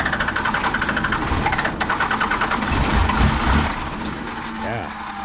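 A diesel truck engine cranking on the starter and catching, a rhythmic pulsing crank that swells into a rough running rumble, with people talking over it.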